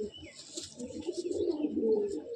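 A breeder pigeon from a loft coos close by in a soft, low, continuous burble, with faint higher chirps in the background.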